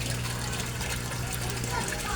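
An Aquaspeed submersible pump aerates a koi pond, pushing air up from the bottom so water bubbles and churns in a steady, continuous wash over a low, even hum, close and moderately loud.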